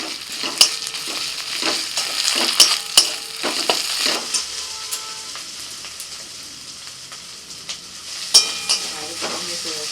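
Onions already fried in oil sizzle steadily as ginger-garlic paste is stirred in for a spicy potato dish cooked with mutton fat, with frequent spoon scrapes and clinks against the pan, loud and close, no voices.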